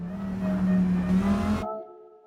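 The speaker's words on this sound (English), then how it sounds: "Just let it go around naturally on the engine brake in there." Race car engine in a racing video game, braking on the engine in 1st gear through a tight corner at Deep Forest Raceway; a steady loud engine drone runs for about 1.6 seconds, then cuts to a quieter low hum.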